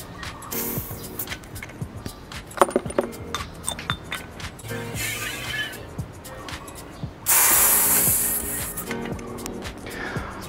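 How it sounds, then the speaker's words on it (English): Cream siphon charged with two gas capsules in a hotel kitchen: a sharp, loud rush of hissing gas bursts in near the end, after quieter clinks and handling noises. "We fill with 2 capsules of gas."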